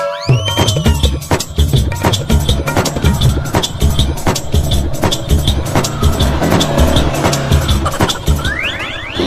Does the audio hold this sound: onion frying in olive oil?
no